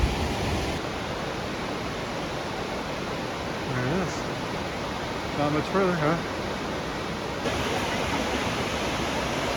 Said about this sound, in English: Here we are at the Hidden Falls.